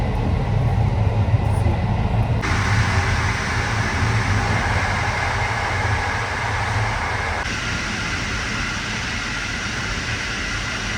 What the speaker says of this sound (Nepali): ट्रेन चाहिँ हिँडिसकेको छ